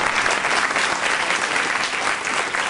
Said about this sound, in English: So she deserves another round of applause for that.